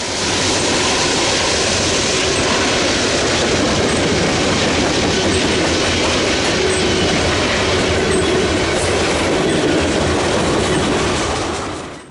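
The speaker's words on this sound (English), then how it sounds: "It was led by a pair of Dash 9s, with the second one being a Canadian-built C44-9WL" CN extra freight X443, led by a pair of Dash 9 locomotives including a Canadian-built C44-9WL, rolls past loud and close in a continuous roar with rhythmic clickety-clack of wheels on rail joints and faint wheel squeal.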